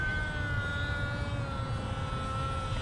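An E-flite Delta Ray RC plane flies overhead at full throttle, its electric motor giving a steady high-pitched whine with a constant low rumble underneath, moderately loud and unbroken.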